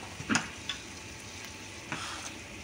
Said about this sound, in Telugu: వేరుశనగకాయ గుళ్ళు సగం వేగాక